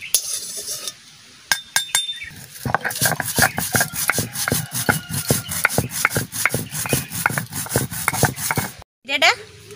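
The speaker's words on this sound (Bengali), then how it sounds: "জিরেটা আমি বাটিছি" Cumin is ground by hand on a traditional grinding stone, a steady rhythmic scraping and rubbing back and forth, loud and close, with a brief pause near the end.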